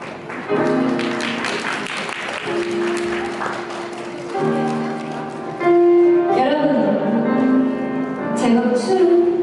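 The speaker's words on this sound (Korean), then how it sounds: "오늘날까지 따님 깊이쁘어기신 아버님께 다시 한번 박수 부탁드립니다" Wedding guests applaud the bride's father in a hall, a steady wash of clapping that runs under loud, sustained music throughout.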